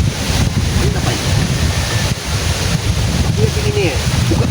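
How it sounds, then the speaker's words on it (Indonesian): Strong wind roars continuously and loudly right against the microphone, with a dense buffeting rumble and no pauses. "Siapa yang mendatangkan angin sebesar ini?"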